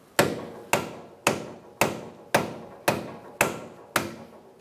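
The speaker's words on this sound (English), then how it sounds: "You can use a rubber mallet and give it a good whack." A rubber mallet whacks a stuck axle on a 2014-2019 Kia Soul during a steering knuckle replacement, eight evenly spaced hard blows with short decays, loud and close with no talk.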